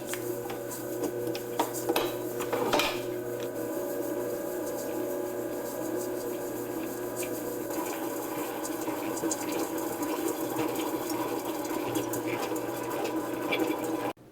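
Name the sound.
stand mixer with paddle attachment creaming butter and sugar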